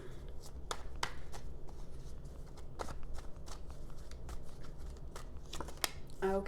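Tarot cards shuffled by hand, a steady run of soft papery riffles and slaps close up, with brief sharper snaps scattered through and faint room noise beneath.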